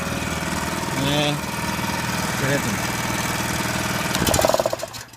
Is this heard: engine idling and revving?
yes